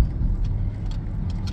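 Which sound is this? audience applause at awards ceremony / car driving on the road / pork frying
car driving on the road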